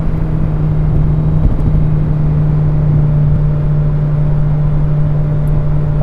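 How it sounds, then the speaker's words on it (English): A car engine runs steadily while being driven, with a constant low hum and droning whir that is loud and close, carrying a faint uneven pulsing from occasional misfires. "I can feel the engine pulsing like it's missing occasionally"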